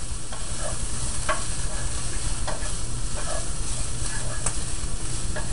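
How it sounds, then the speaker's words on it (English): Sausage browns in a hot pan with a steady, close sizzle and crackle throughout, a few light stirring scrapes and pops standing out above the constant frying hiss. "so once again you can see the sausage is browning up nicely."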